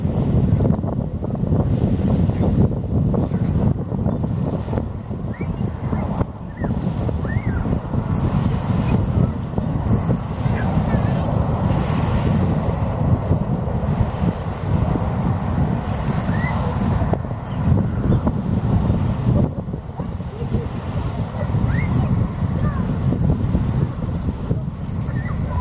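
Rocket launch at Cape Canaveral heard from a distance as it passes overhead, a continuous low rumbling roar with crackling texture and wind buffeting the microphone, steady and sustained for the whole stretch.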